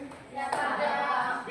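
Several people clap hands in a classroom clap game, a short burst of quick clapping that swells and fades over noisy room background.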